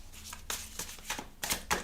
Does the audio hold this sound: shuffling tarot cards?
yes